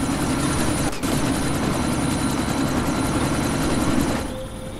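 Helicopter in the Deus Ex: Mankind Divided video game, a loud, steady rotor and engine drone close by with a brief dip near the start, fading slightly at the end, no talk.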